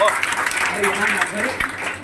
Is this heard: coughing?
no